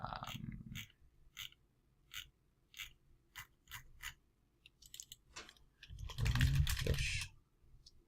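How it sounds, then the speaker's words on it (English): Key presses on a computer keyboard typing a short search query, a quick run of separate clicks followed by a louder burst of clatter, fairly close and with no talk over it. "maybe if we just type in artificial fish"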